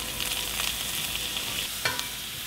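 Butter sizzles and crackles in a frying pan alongside fish fillets, a close, steady frying hiss with no talking.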